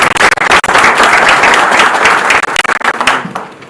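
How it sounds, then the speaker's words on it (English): A large audience at a Kenya Space Agency strategic plan launch breaks into loud, dense applause that holds steady throughout, with faint voices mixed in. "Another round of applause for the DG of Kenya"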